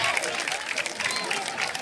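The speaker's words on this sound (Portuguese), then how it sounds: "Cadê as palmas? Cadê as palmas?" Crowd at a Brazilian freestyle rap battle, Batalha da Aldeia, claps and cheers in a steady, dense wash of applause filling the whole moment.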